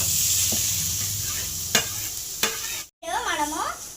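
Grated carrot for carrot halwa cooks in a pan with a soft, steady sizzle and a few scraping stirs, then a short gap followed by a wavering tonal sound.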